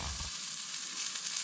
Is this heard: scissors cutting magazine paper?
no